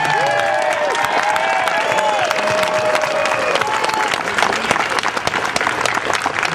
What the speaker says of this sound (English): we need to give her a round of applause